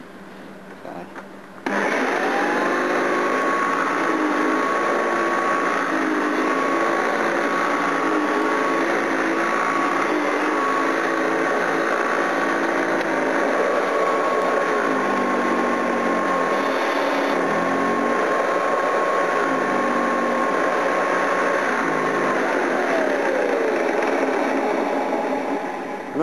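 A vacuum cleaner motor switches on abruptly and then runs with a loud, steady whine and a constant high tone, close and continuous for over twenty seconds.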